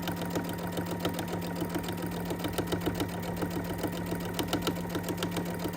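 A sewing machine stitches through layered fabric for a kitchen pot holder, giving a steady, rapid mechanical chatter with a rhythmic pulse, close and even, with no talking.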